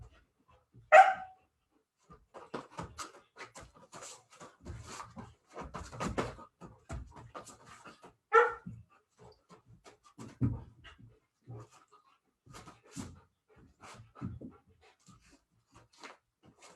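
Puppies and adult dogs at a puppy socialization class playing together, with a sharp bark early on and scattered panting, scuffling and thumps through the stretch, fairly close and moderately loud, no talking.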